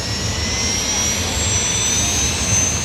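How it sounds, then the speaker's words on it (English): A UH-1 Huey helicopter turbine whines steadily at a high pitch as it starts up, over a low rumbling engine drone, loud and continuous. "there's no greater sound than the whine of the UH-1 turbine as it starts up"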